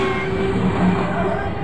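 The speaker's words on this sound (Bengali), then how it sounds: "দেখো ট্রেনটা চলে যাচ্ছে, সব লোক যাচ্ছে" Train passing through Hooghly Ghat station, a continuous loud rolling roar with a steady humming tone, heard close from the platform.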